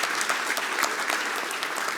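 Continuous applause from the audience at a formal inauguration ceremony, honoring the president of the Palermo Tribunal in Italy, steady clapping from a crowd with no speech over it.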